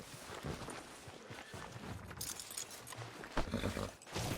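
Hooves of a horse in Red Dead Redemption 2 clop along at a walk, fairly close and continuous against a busy outdoor game ambience, with no talking over them.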